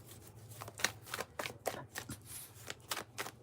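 Tarot cards are shuffled by hand in a soft, irregular series of flicks and riffles, close and quiet, with no speech.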